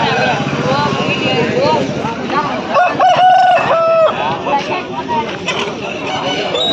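A rooster crows once, loud and close, amid a busy background of overlapping voices and clucking fowl at a Sunday poultry market in Pileru.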